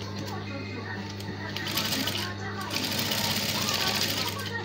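A sewing machine stitches around fusible interfacing on a long-sleeved jacket dress, giving a steady, close mechanical whir with a constant hum underneath that runs for the whole stretch. No one speaks over it.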